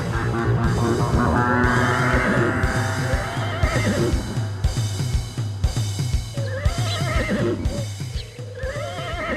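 An unruly horse neighs repeatedly in a string of loud, shrill whinnies over a steady rhythmic background of clip-clopping hooves.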